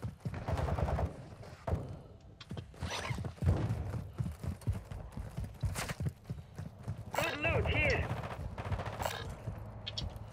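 Gunfire in the shooter game Call of Duty: Modern Warfare II Warzone 2.0 DMZ: scattered sharp shots and short bursts crack through the mix, heard under ongoing voices of players talking.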